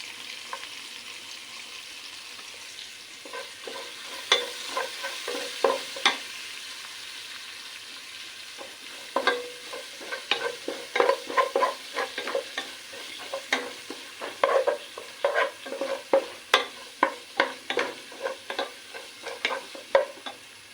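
Curry leaves and green chillies fry in a pan for a hamour fish mappas, a low steady sizzle under bursts of rapid spatula scraping and tapping, close and moderately quiet, with no voices.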